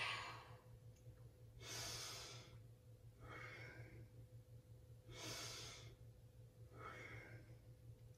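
Yoga breathing in a calm session: slow, deliberate inhales and exhales alternating in an even rhythm, about five soft airy breaths close to the microphone over a quiet, low hum.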